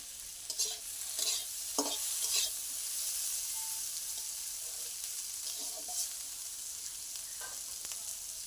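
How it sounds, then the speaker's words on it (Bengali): Slit green chillies fry lightly in hot oil with a steady, moderate sizzle, broken by a few scraping stirs of the pan near the start. "খুব বেশি ভাজবো না, হালকা ভেজে নেব। দিয়ে দিচ্ছি চেরা কাঁচা লঙ্কা"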